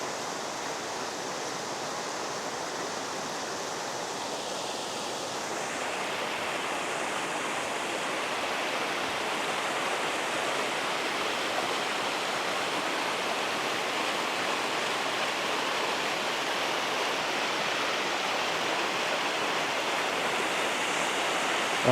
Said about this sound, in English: Let's just sit here for a minute and just listen to the water.